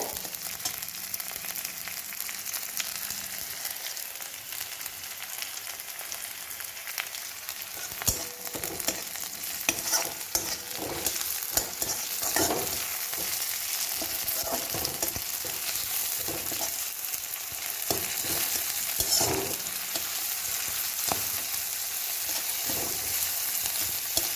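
Pasta with green peas fries steadily in a pan, giving a continuous bright sizzle with occasional stirring scrapes and clicks, close and fairly loud throughout, with no voices.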